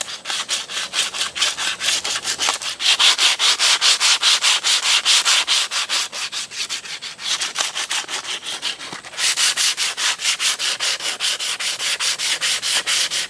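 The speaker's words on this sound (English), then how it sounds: "we're going to take either a wire brush or a piece of sandpaper and we're going to clean all that off" Wire brush or sandpaper scrubbing rust off a metal treestand before painting: steady, rapid back-and-forth rasping strokes, loud and close, continuous for the whole stretch with a brief lull, no talking.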